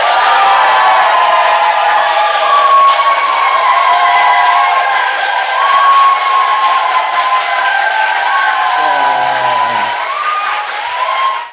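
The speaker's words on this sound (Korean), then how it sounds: "여기는 이제 박수 타임이라는 게 있습니다" A crowd applauding and cheering to welcome election candidate Lee Kwang-jae on stage, loud sustained clapping with whoops and rising whistles running for over ten seconds, dense and close, fading only at the very end.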